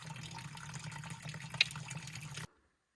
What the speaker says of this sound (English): I'm gonna leave this valve open so that I can rinse the pools out